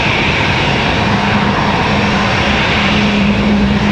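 Airplane at Raleigh Durham International Airport, a loud, close engine roar holding steady and alone for the whole stretch.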